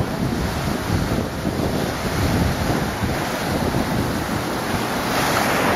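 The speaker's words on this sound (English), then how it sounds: "watch the waves come in" Ocean surf rolling in at Laguna Beach, a loud, steady wash of breaking waves with heavy wind buffeting the microphone throughout and no voices.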